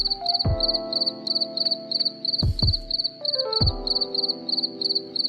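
Crickets kept on a cricket farm chirp in a steady, rapid pulsing chorus, close and continuous, while several low thumps and knocks sound briefly in the background.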